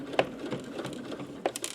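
A sewing machine stitches slowly along a folded fabric hem while making a small grocery bag, giving sharp clicking bursts and light, uneven patter.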